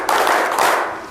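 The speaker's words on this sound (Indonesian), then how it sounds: "Tepuk 1." A seated audience at a psychology class claps once in unison on cue, a loud and slightly uneven burst of many hands that fades quickly.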